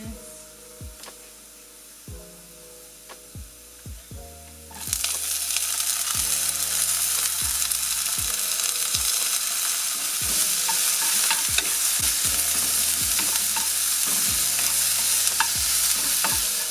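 Onions hit a pan of browning potatoes, the sizzle jumping sharply louder and brighter once they go in, with steady scraping stirs of a spatula recurring through the frying.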